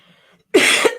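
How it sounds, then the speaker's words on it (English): A few sharp, loud coughs burst out after a near-silent moment, closing with one more short cough, close to the listener and on their own. "I'm really coughing today."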